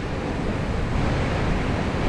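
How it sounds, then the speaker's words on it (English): Surf crashes onto a rocky shore of big boulders on a coast with a good sea running and westerly winds, a loud continuous roar of breaking water and wind, with no voices. "We've got a beautiful sea on"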